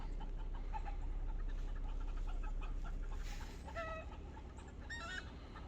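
A hillside full of chickens and roosters clucks and calls from a distance along a Tennessee back road near Newport, a steady chorus of overlapping cackles over a constant low rumble of background noise.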